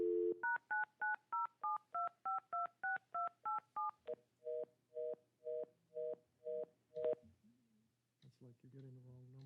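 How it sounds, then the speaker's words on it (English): Telephone keypad tones beep out a long run of evenly spaced DTMF dialing pulses, first a quick series and then a slower set, followed by a ring and a voice on a quiet line. "You're dialing the 907 now."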